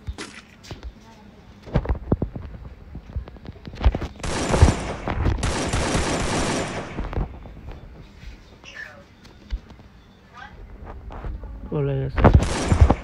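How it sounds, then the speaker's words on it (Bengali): Gunfire in the mobile battle game Free Fire, with scattered shots and then dense rapid bursts in two main stretches and another near the end, over quieter game ambience. "ওই যে আমাকে গুলি করতেছে।"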